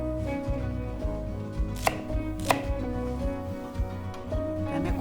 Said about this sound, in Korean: 그다음에 대파는 송송송 1cm 길이 정도로